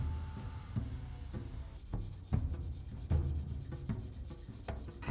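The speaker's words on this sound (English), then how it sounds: "I'll work it all the way up to around 600 grit and go to hand sand" Steady, close rubbing strokes of hand sanding a steel seax blade scrape back and forth in a regular rhythm, with a sharper scuff marking each change of direction.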